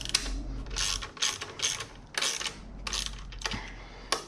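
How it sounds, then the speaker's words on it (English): Ratchet wrench tightening the exhaust side bolts on a Honda Navi with a Vance & Hines exhaust, bolts going into an aluminum case: repeated close, crisp bursts of pawl clicking in quick strokes with short pauses between. "then we're going to tighten down these side bolts"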